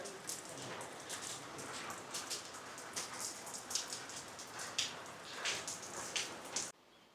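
Rain falls on a traditional South Indian house, a dense patter of drops hitting the surfaces nearby, steady and fairly soft, with no voices.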